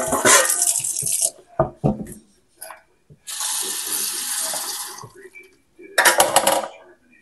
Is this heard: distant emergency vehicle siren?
no